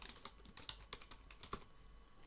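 Quick, light keystrokes on a computer keyboard, a close, irregular run of soft clicks and taps, faint and without talking.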